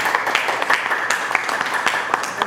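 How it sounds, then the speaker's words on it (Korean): A church prayer-meeting congregation gives steady, continuous applause to welcome a new member, dense overlapping claps filling the room. "박수로 환영하겠습니다."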